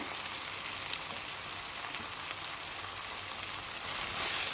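Chopped fenugreek leaves hit softened tomatoes frying in a pan, giving a steady, close, even sizzle and crackle that holds throughout with no talking.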